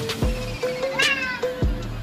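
A cat meows several times in short, clear calls close to the listener, with brief pauses between them and no talking.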